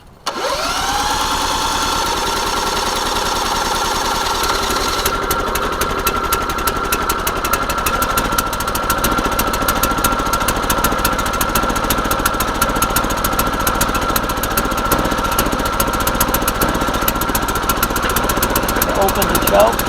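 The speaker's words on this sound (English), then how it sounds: "So I've never started this engine before." A brand-new EDOG04 4000-watt inverter generator cranks and catches, then its small engine runs loud and close with a steady, buzzy drone and a rapid chattering pulse.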